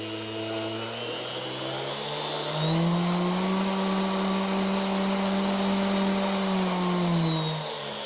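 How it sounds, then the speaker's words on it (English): A Prostormer 5-inch random orbital sander runs with a steady motor whine whose pitch climbs and holds higher as the speed control knob is turned, then drops back near the end, loud and close with no talking. "I have never seen a sander with speed control."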